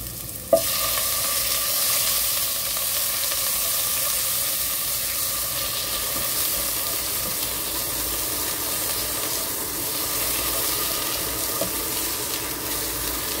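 Blanched, skinless chicken pieces hit a pan of sautéed ginger for a Chinese watercress soup, giving a loud, steady sizzle that runs unbroken throughout, with a small clink near the start and no talking.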